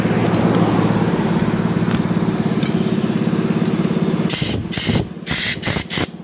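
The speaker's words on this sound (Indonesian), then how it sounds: "embus pakai kompresor" Compressed air from an air compressor forces through a scooter's oil pump, a loud steady rushing hiss with a pulsing low rumble that breaks into short sharp blasts near the end.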